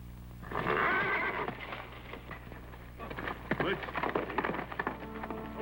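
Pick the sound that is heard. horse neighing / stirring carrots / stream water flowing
horse neighing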